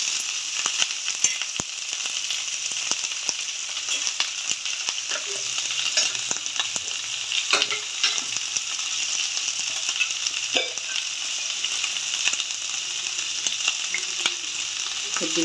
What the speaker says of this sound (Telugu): లైట్గా సాటే చేసి కలుపుకుంటూ ఉండాలి.